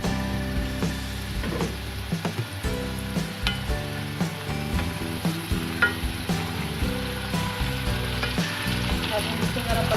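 Potato chips for French fries bubble and sizzle in hot oil in a covered pan, a dense, steady crackle close by with small pops and clicks throughout and no pause.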